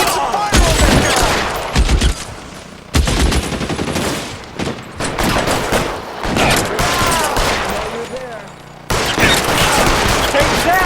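In the L.A. Noire video game, dense rapid gunfire from pistols and automatic weapons rings out in loud, overlapping bursts during a shootout, with brief pauses between volleys and shouting voices mixed in.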